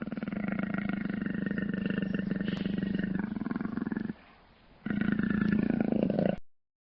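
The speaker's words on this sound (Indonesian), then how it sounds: "Macan tutul." A leopard roars in a long, raspy run of rough repeated grunts, loud and close, breaks off briefly near the four-second mark, then resumes before cutting off.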